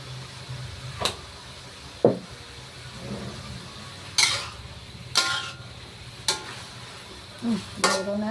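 Ham frying in a pan for carbonara, with a low continuous sizzle broken by repeated brisk scraping stirs, some six or seven strokes spaced about a second apart.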